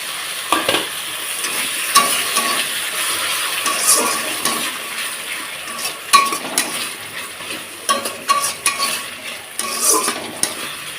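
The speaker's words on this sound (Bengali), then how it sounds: "মশলাটা ভালোভাবে কষাতে কষাতে দিয়ে দেবো একটুখানি জল" Spice masala for a soybean curry frying and being stirred in a pan, with a steady sizzle throughout and repeated scraping and clinking of a utensil against the metal at uneven intervals, close and moderately loud, no talking.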